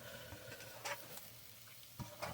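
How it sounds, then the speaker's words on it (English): Lion's mane mushrooms sizzle and sear in a hot pan, a steady crackling hiss with a few louder spatters and clinks. "And we'll just toss those in the pan. You hear that singe there."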